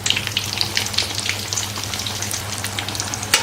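Plantain bajji, batter-coated slices of raw plantain, deep-frying in hot oil, making a loud, continuous crackling sizzle with dense bubbling pops and no talk over it.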